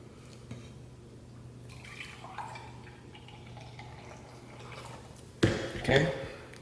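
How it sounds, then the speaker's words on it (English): Three quarters of a cup of milk poured into blueberry muffin batter in a kitchen, a soft liquid trickle under a low hum, ending in a louder splash and slosh as the milk hits the bowl; a person talks nearby. "Now you're gonna add 3/4 cup of milk."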